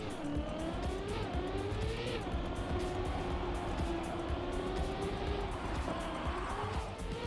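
Race cars in Trackmania at the EWC Birmingham esports event roar off the start line together, a steady, loud engine drone with rising pitch sweeps as they accelerate, continuous from start to finish.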